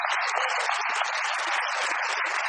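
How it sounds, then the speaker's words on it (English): A church congregation at a sermon gives a hearty round of hand clapping, loud, dense applause that holds steady from start to finish with no talk over it. "Give the Lord a hand clap."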